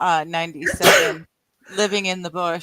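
A single sharp sneeze bursts out in the middle of a person's speech, followed by a brief silence before the talking resumes.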